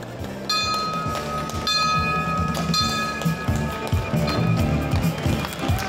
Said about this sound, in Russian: приглашаю участников церемонии сделать удары в колокол